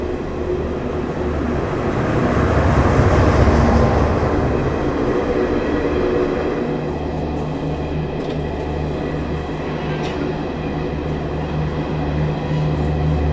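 The Ranchi Garib Rath Express rolls slowly through Tundla Junction, heard from on board as a loud, steady rumble of wheels on track with rhythmic clatter and faint squeals.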